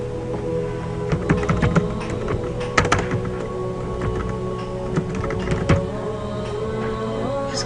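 Typing on a computer keyboard while working in Corel Draw X6, with steady close key clicks and a few sharper taps under a constant background hum.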